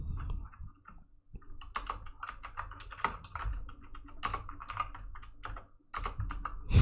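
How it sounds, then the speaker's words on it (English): Fingers type on a computer keyboard in a rapid, uneven run of close key clicks, with a short pause near the start and another just before the end, and no voices. "I'm not looking at the keyboard, so it's hard for me sometimes to type"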